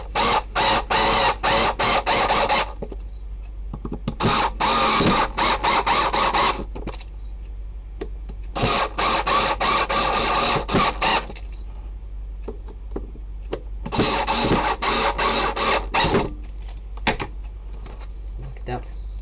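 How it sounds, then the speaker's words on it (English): Screws forced into an aluminum block for an e-bike controller mount give repeated bursts of clicking, grinding mechanical noise, several separate runs close up with quieter pauses between. "So now I'm just forcing these screws in that"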